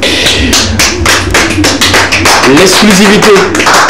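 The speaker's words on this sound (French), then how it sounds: "On applaudit pour cela" A studio audience on a French-language music television set applauding a new exclusive song, sharp individual claps in an irregular, loud pattern, with a voice talking and music over them.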